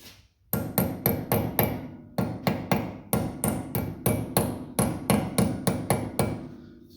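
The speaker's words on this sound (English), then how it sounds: "Tap that in place, and we are done with that." A hammer taps a part into place during a front wheel bearing service on a Lincoln, Ford or Mercury, with about twenty sharp, close metallic blows in quick bursts of three to five and no talking.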